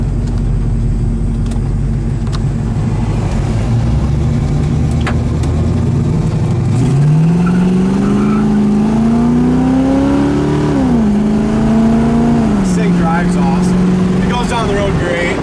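A 1970 Camaro with a 350 V8 drives on the road, its engine note rising and shifting through gears as it accelerates, loud and close, with someone talking over it.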